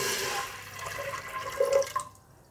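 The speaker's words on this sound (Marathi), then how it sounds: "आता आपण कुकरमध्ये 1 तांब्या पाणी घालू" Water poured from a tumbler into a pressure cooker for tomato soup, a short splashing gush that builds, then cuts off abruptly near the end.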